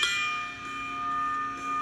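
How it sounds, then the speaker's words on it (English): Ringside bell in a WWE wrestling ring, one sharp metallic clang that rings on with sustained tones, heard alone. "I think you've earned the right to ring the ring bell."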